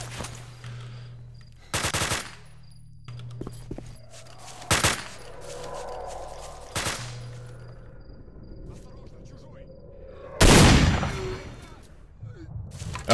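Gunfire from dart rounds in STALKER: Shadow of Chernobyl, several loud sharp bursts spread across the stretch, the last one heaviest, with quieter game ambience and faint tones between the shots.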